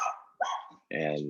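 Household dogs give a couple of short, sharp barks, close by and moderately loud, with a brief spoken word at the start of the moment.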